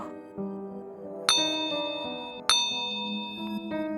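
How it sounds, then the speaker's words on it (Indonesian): Bright metallic bell strikes ring out at regular intervals from a guard post, each tone lingering and overlapping the next, repeated several times. "Terdengar suara lonceng berulang dari penjagaan."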